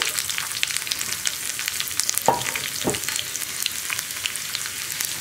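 Round-cut onions fry in hot oil with fenugreek while being stirred, a steady sizzling hiss broken by two sharp scraping strokes of a spatula midway.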